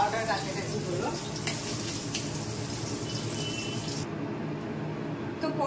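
Pointed gourd fries in oil, a moderate, steady sizzle with a few clicks of handling, fairly close, and the sound cuts off sharply near the end.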